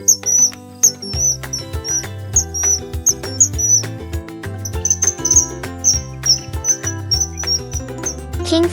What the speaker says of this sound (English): Kingfisher.